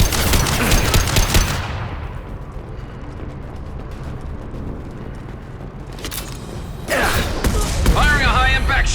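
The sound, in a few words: gunfire from a sidearm in video game Mass Effect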